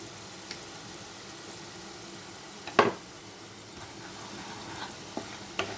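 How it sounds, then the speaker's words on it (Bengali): Ground spice paste with cumin and coriander powder fries in a pan, a soft low sizzle with a sharp utensil scrape or knock near the middle and a few lighter clicks, close by with no talking. "মশলাটা একটু ভাজা হবে"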